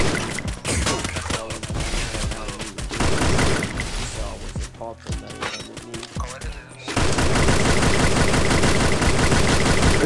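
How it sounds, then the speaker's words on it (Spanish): Rapid bursts of gunfire crackle continuously in Free Fire, loud and dense, with heavier sustained firing near the end. "Son tiros."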